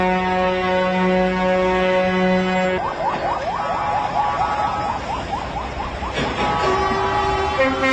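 Trucks driving into Gaza blast a long, loud air horn. A rapid warbling honk follows, and then more horn blasts and traffic noise come near and far.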